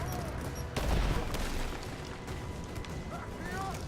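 Gunfire crackles in Rise of the Tomb Raider during a combat firefight, a loud burst followed by sustained shooting and battle noise, with game voices shouting over it.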